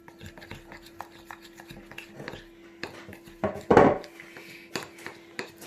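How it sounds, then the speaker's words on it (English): Melted chocolate for a budget cornflake or Rice Krispie cake is stirred in a bowl, giving soft scraping and clinking knocks of utensil on dish, close and sparse, with one louder clatter near the middle and no talk. "So give it a nice good stir up."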